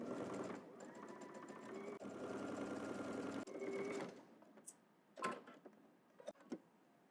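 A sewing machine stitches a double-breasted jacket seam down to the hem in steady running bursts, pausing briefly, then giving way to quieter handling clicks and taps near the end.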